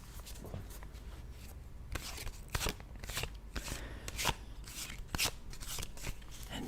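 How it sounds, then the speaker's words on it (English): A deck of tarot cards is shuffled in a quiet room, with repeated crisp riffles and slaps in an irregular rhythm, close and soft. "I would like you to listen to the sounds of the shuffling. I'm shuffling the deck,"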